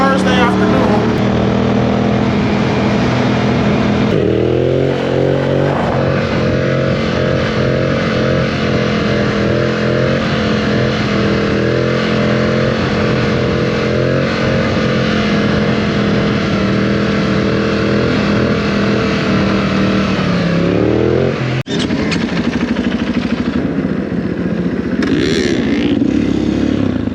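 A motorcycle ridden through Melbourne streets in winter with a poorly handling front end gives a loud, steady engine drone close up, with gear changes and revving surges, and wind roar throughout.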